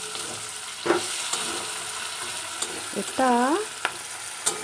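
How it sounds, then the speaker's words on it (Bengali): Chopped onions sizzling and frying in a pan for chicken kosha, a steady close hiss with occasional stirring scrapes, and a brief voice and a tonal squeak breaking in. "তো পেঁয়াজ কেটে এইভাবে ভেজে নিচ্ছি।"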